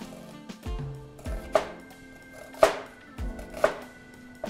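Knife chopping onion on a cutting board in a kitchen while cooking spicy chorizo and octopus rice: a few separate sharp cuts with knocks on the board, spaced about a second apart, close and fairly quiet.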